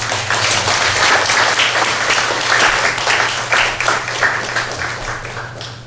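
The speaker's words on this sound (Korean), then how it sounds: "다같이 환영의 박수로 맞아주십니다" Church congregation applauds in welcome of a visiting seminary professor, a sustained, even wash of many hands clapping throughout, with a low steady hum beneath.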